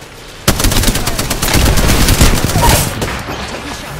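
Rapid gunfire from the video game Apex Legends, a loud sudden burst that rattles on for about two and a half seconds before tapering into quieter scattered shots.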